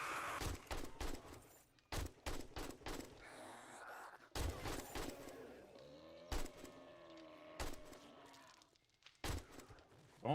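Gunfire from 7 Days to Die cracks in sharp, loud single shots and short bursts spread irregularly across the stretch, with quieter gaps, thuds and someone talking in between.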